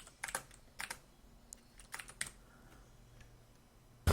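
Keystrokes on a computer keyboard during C# console programming, typed in short bursts of quick clicks with pauses between them, close and fairly quiet, with no talking.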